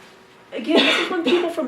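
A single sneeze bursts out in a university theology lecture, sharp and close, and a voice keeps talking right through and after it.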